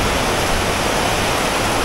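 A dense, continuous roar of downpour over Nha Trang in the rainy season, broad and unbroken from start to finish, with no talking.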